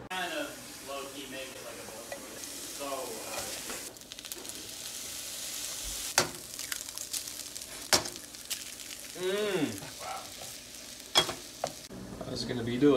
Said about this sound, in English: Make some fried rice.